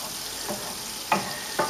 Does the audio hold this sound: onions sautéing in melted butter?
yes